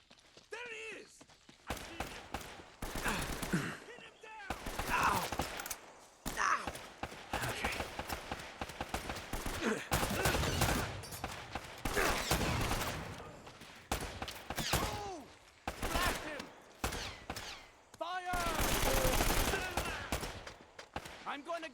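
Repeated bursts of game gunfire from Uncharted: Drake's Fortune, with dense volleys and single shots, loud and close, spread across the whole stretch with brief gaps between bursts.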